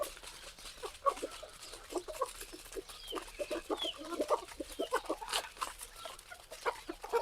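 Desi rooster and hens on a free-range chicken farm, with soft clucking and scattered bird calls rising over a steady outdoor background, fairly close and moderate in level, with no talking.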